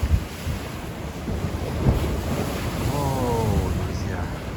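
Storm waves roar and wash steadily against the Yalta embankment in Crimea at night, with gusty wind buffeting close to the microphone. The surf forms a dense, loud, continuous rumble with no talking.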